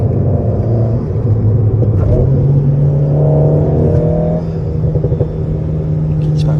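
Engine of an Alpine A110 with a 1.8-litre engine while driving, a loud steady rumble whose pitch rises gradually as the car accelerates, heard from inside the cabin.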